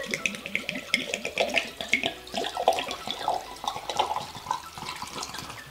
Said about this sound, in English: We take the seal off the bottle and we literally just pour it into our mason jar.